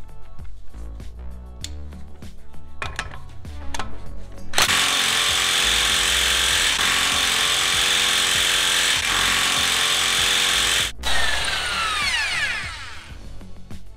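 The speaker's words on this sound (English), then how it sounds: "Our next step is to remove the axle nut." A power tool spins off the axle nut on a Honda. After a few seconds of light clatter it roars in loud and close, keeps running steadily, pauses for a moment, then whines down.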